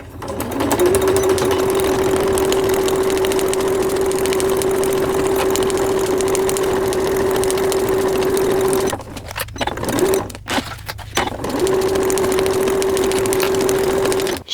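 A sewing machine stitches the ear seam of a child's rain cape. It runs in a loud, steady whirring hum close by, broken by two short pauses near the end before resuming.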